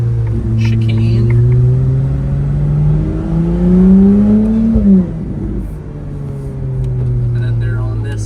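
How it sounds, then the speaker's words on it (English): A Ferrari drives the Monaco F1 street circuit, its engine a loud, steady drone that rises in pitch as it accelerates, eases off near the midpoint, then settles back into a sustained cruise, with faint voices underneath. "pretty cool to actually be driving on in a Ferrari"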